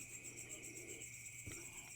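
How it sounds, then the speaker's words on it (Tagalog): Crickets chirp at night in a steady, faint, high-pitched trill that runs unbroken throughout, with no voices present. "ang ingay po ng kuliglig, hindi po siya makatulog"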